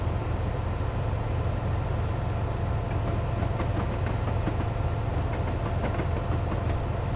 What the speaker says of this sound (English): There's another train coming down here.